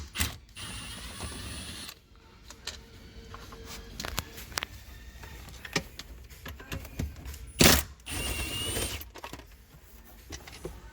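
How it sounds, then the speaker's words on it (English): A T27 Torx driver works out center console screws in a Mercedes W220 S-Class, producing faint intermittent ratcheting clicks, plastic creaks and scattered sharp knocks, with one louder clatter near the end. "We're using a T27 Torx."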